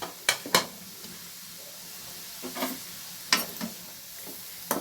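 Green chilli, ginger, garlic and onion dropped into a pan of simmering liquid, a few scattered clinks and soft stirring scrapes over a quiet bubbling background.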